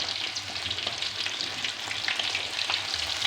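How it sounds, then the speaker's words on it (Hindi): Fish pieces fry in hot oil with a steady crackling sizzle, stirred with a fork so the frying pops and flares in small bursts, close and continuous with no voices. "हम इस मछली को 5-6 मिनट फ्राई करेंगे, 3 मिनट एक तरफ से और 3 मिनट एक तरफ से"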